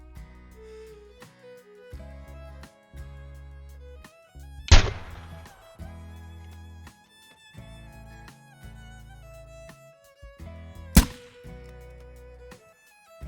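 An air rifle fires at a deer in a hunting video game: one sharp crack rings out in the middle of soft game music and ambience, then a second similar crack follows some seconds later.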